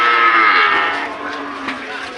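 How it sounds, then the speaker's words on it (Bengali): A Holstein Friesian bull calf at a cattle market lets out a single close, loud moo that trails off and fades toward the end. "এটা জাতে কি এটা হলস্টাইন"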